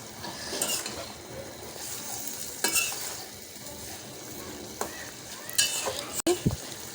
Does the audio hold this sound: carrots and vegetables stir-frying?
yes